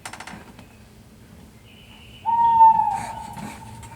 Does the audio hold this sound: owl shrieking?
yes